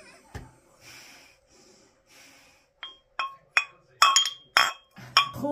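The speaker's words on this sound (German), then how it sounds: "wir stoßen an" Drinking glasses clink together several times in a toast at a table during a dinner get-together, a series of bright, sharp chinks after a quieter stretch with breathing and faint room sounds.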